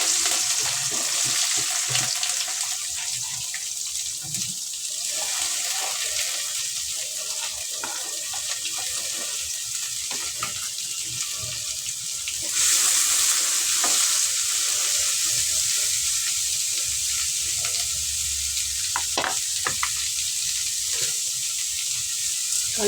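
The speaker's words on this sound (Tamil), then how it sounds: "இப்போ வெங்காயமும் கருவேப்பிலையும் போட்டுக்கலாம்." Sliced onions and curry leaves with fennel seeds sizzle steadily in hot oil in a pan, a continuous loud frying hiss with occasional stirring scrapes close by.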